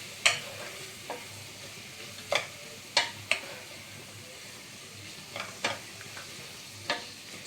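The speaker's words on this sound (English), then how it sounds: "keep frying it till it becomes translucent" A soft steady sizzle of leeks frying in a saucepan runs underneath while a spoon clacks against the pan every second or so in sharp, close taps.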